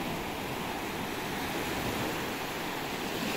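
Steady broadband wash of sea waves on a beach near the mouth of the Segura river, a constant rushing surf with some wind noise, no speech.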